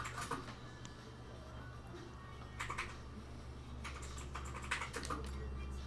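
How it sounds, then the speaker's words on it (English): A loud computer keyboard clatters in quick irregular bursts of key presses over a low steady hum, close by and with no talking. "It's just a very loud keyboard."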